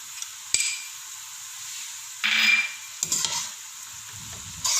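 Chopped tomatoes and green chillies are stirred into frying onions with minced meat. A steady sizzle runs throughout, broken by a sharp knock and a few bursts of scraping and stirring.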